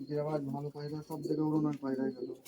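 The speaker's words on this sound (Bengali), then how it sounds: "এগুলো গিরিবাজ পায়রা বাচ্চা খুব গ্যারেন্টি" Giribaj pigeons cooing close by, a run of rich, throaty rolling coos in quick repeated phrases.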